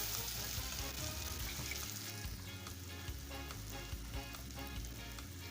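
A masala paste with green chili and a splash of water sautés in a pan for a spicy papad dish, giving a faint, steady sizzle and bubbling that keeps on evenly throughout.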